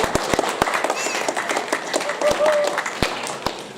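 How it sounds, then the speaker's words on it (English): An audience claps at a school senior assembly at Porirua College in 2021, honouring certificate winners. The sharp, irregular claps fill the room at steady loudness throughout, with a voice speaking over them. "big round of applause for all the certificate winners that week"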